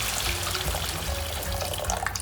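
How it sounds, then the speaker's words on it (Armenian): Water pours from a container onto 250 grams of rice in a cooking pot, a continuous splashing rush that stays steady and close throughout with no talking. "Ես ավելացնում եմ նախնական 500 մլ-ը։"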